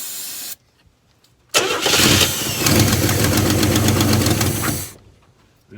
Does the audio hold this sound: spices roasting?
no